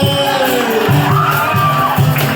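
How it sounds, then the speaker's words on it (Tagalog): Crowd cheers and whoops for a live band at an outdoor flag ceremony, a loud burst of shouting and cheering from nearby over a steady background. "Palakpak naman dyan!"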